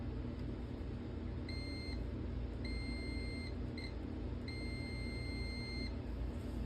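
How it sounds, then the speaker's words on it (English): A multimeter beeps during a continuity check on repaired circuit board traces in a power supply, with several steady tones of uneven length separated by short gaps, over a constant low background rumble and no talking. "Just gonna quickly check continuity here, make sure that we're able to get across with current on the repairs that we just did."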